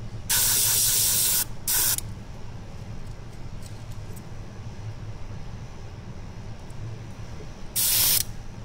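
Airbrush sprays paint on a window frame in two short hissing bursts near the start and another at the end, loud and close over a low background hum.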